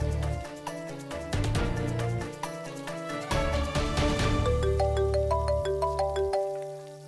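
A phone rings with a melodic electronic tune for an incoming video call, repeating bright chiming notes clearly and steadily for several seconds.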